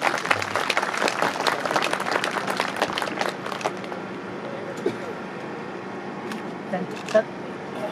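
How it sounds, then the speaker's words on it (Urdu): Audience applause for a respected teacher at a government high school's 60th anniversary event, a dense burst of clapping that eases into lighter scattered claps with background room noise. "استاد محترم کے لیے تالی ہونی چاہیے"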